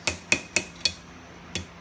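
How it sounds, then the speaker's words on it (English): A hand hammer strikes metal while a miniature rounding hammer key ring is forged: four sharp, ringing blows at an even pace, a short pause, then one more blow, all fairly quiet. "I'll flip the hammer over and use the back side to really drive it in"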